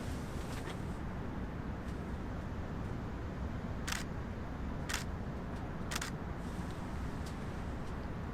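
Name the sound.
camera shutter shooting handheld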